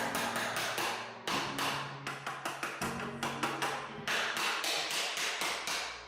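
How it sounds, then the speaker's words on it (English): Rapid, sharp hammer strikes ring out in quick repeated clusters as trim nails are pried out, close and loud, with short gaps between bursts. "so definitely have to use the hammer in this situation"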